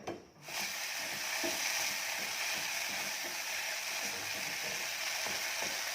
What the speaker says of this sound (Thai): เราจะผัดกัน